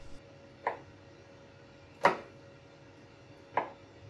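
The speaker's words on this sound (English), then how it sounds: "I used a knife to cut it into tiny pieces" A knife chops cheese into tiny pieces on a board, three separate sharp chopping hits spaced more than a second apart, close and fairly quiet in a still room.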